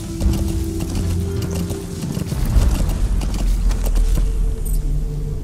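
Steady clip-clop of a horse's hooves in a video game, a continuous rhythmic trot fairly close, with game ambience and a faint background hum, no talking over it.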